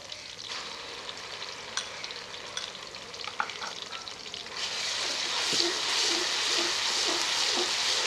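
Ginger garlic paste sizzles and fries with golden onions in a pan, a steady crackling hiss with occasional stirring scrapes that grows louder and fuller toward the end.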